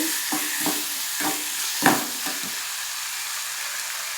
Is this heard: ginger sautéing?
yes